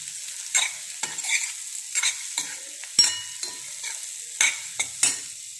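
Gondi flower buds fry softly in a pan as a spoon stirs them in a series of distinct scraping strokes, each followed by a brief sizzle, close and quiet with no talk.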